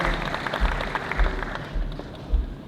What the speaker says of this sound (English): Can we give a round of applause to John, please?